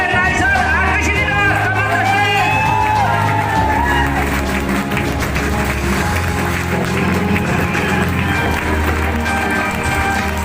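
An audience applauds a guest speaker at an event, dense clapping mixed with crowd cheering and babble, loud and sustained throughout, with a voice briefly rising over it early on.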